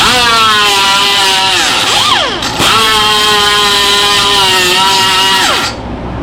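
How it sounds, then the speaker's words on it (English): A small pneumatic sander with a worn 36-grit disc smooths a John Deere exhaust part, its loud air-driven whine holding steady, dipping in pitch once under load midway, then cutting off near the end. "This is a fairly worn out 36 grit on a little pneumatic sander."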